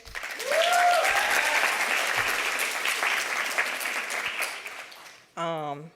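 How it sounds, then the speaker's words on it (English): Audience applause fills a room at an end-of-year in-person event, a dense sustained round of clapping with a few cheers, tapering slightly before a voice begins speaking at the end. "I just want to start with giving everybody a round of applause for being here"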